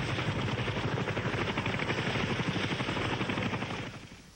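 A Huey UH-1B helicopter thumps loudly and steadily overhead with rapid rotor chop, then fades slightly at the end.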